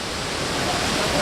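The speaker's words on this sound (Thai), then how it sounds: "ตอนนี้ก็มาถึงน้ำตกอู่ไหลเป็นที่เรียบร้อยแล้วครับ" Wulai waterfall in Taiwan roars as a steady, dense broadband rush of falling water, close and continuous for its whole length with no pauses.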